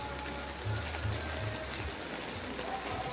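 Continuous hiss of heavy rain pattering on surfaces, steady and moderately loud, with a low hum in the background.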